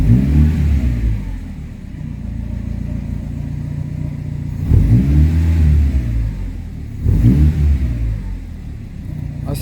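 A Fiat 147 engine with an exhaust cut-off valve revs up three times in close range, each throttle blip swelling into a loud growl before settling back to a rough, lean-sounding idle between bursts.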